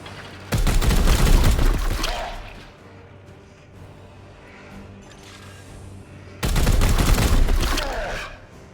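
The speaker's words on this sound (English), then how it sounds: "we're just going to start shooting him until he's stunned again" Heavy gunfire at the boss Morgellus the Corroded Prince in Chaos Gate: Daemonhunters comes in two loud sustained volleys of rapid shooting with crashing impacts, separated by a quieter stretch of low ambient rumble.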